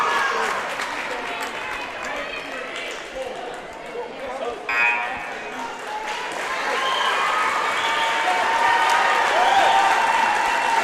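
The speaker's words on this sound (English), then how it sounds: "Callie Goodrow gets a hand from the crowd, a well-deserved hand" Basketball crowd at a varsity girls game applauding a player as she checks out, a swell of clapping and cheering rising toward the end, heard under a commentator's ongoing talk with some court noise.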